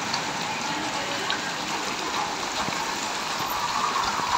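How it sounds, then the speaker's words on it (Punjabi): Heavy monsoon rain pours steadily, a dense close hiss of drops drumming on surfaces with no break across the whole stretch. "ਬਾਰਿਸ਼ ਬਹੁਤ ਤੇਜ਼ ਹੋ ਗਈ"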